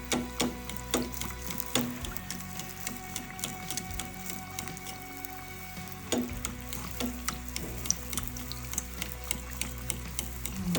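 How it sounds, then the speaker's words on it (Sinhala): Kavum, traditional Sri Lankan oil cakes, deep-frying in hot oil, a steady close crackling sizzle throughout with a few sharper clicks and bumps of a stick turning the cake. "තෙල් ගහන ගමන්ම ඉරටුව මෙහෙම කරකවනවා"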